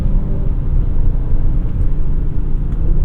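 A 2024 Audi RS3's turbocharged inline-five engine sends out a loud, steady low rumble, heard close from inside the car.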